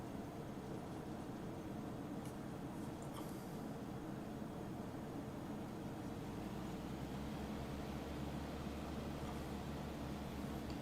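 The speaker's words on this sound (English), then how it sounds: "Low revving engine, by the way." An old trainer aircraft's engine drones at low revs, a steady broadband rumble that fills the whole stretch without a break, heard from inside the cockpit.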